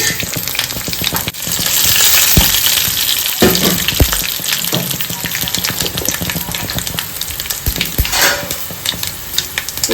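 A tempering of onion, curry leaves and cumin fries hard in a pan as pickles are added, giving steady loud sizzling and spattering close by, with sharp stirring knocks and clatters breaking through now and then.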